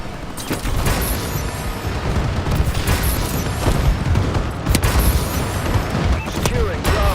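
Bombing run explosions in the video game Call of Duty: Advanced Warfare, a dense continuous barrage of booms and gunfire rumbling throughout.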